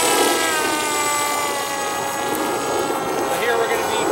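A small electric motor on an RC F-117 stealth model plane whines steadily at launch, a high sustained tone with faint harmonics, close and continuous throughout.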